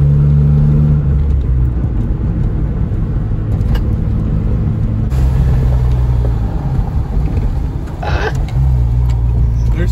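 A Geo Metro car driving in a worn-out first gear, with a loud, steady engine drone and road rumble heard from inside the car throughout.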